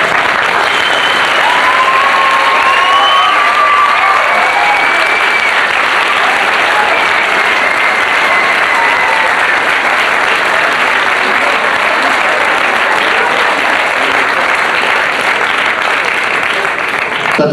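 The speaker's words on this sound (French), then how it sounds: "tous les finissants devraient se lever et applaudir leurs parents" Graduates at a 1991 Ecole LaSource graduation ceremony stand and applaud their parents, filling the hall with sustained, loud, even clapping from a large crowd that continues unbroken throughout.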